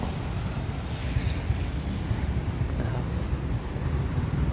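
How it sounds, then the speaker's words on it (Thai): Wind blows across a university campus during a walk, a steady low rumble and rush of breeze buffeting the microphone, with faint traffic-like noise underneath. "โอ้ลมรื่นนะครับลมรื่น"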